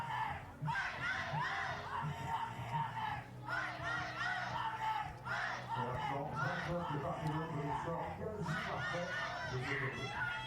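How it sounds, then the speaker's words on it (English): British supporters cheering in the crowd at a women's compound archery gold-medal final in Paris, a continuous, fairly loud wash of shouts and cheers mixed with voices. "That's the British supporters in the crowd cheering on Ella Gibson here."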